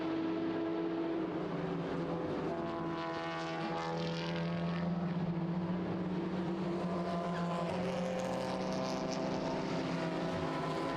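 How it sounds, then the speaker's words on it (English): A Hyundai Elantra TCR chases a BMW M3 E90 race car around Circuit Zolder during a Supercar Challenge race, engines droning loudly and continuously with pitch rising and falling through shifts and corners, and no talk over them. "So that's actually an interclass battle now, with Vandenberg leading in his M3 E90."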